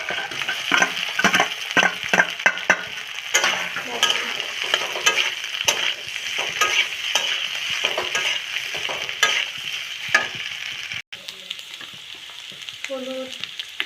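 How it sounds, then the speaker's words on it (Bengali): Potatoes sizzle loudly in a hot pan while a spatula stirs and scrapes in quick, repeated strokes, close and constant, then ease off near the end with a few softer clinks. "এখন আলু দিয়ে দেবো।"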